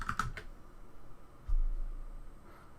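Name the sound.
typing a password on a computer keyboard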